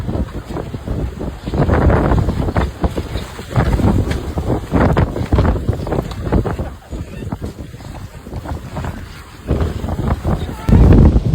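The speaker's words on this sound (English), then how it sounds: "the constant roar of wind" Blizzard wind in Providence, Rhode Island roars and gusts continuously, loud and buffeting, with some talking mixed in throughout.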